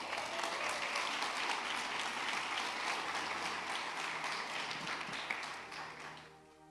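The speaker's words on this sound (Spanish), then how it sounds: "Demos un aplauso al Señor," Spanish-speaking church congregation applauding, a full crowd of clapping hands that holds steady and then tapers off near the end, moderately distant, without voices on top.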